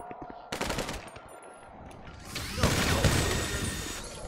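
Gunfire in a GTA 5 zombie mod comes as rapid mechanical rattling bursts of shots, moderately close, with a brief pause between two volleys and faint voices underneath.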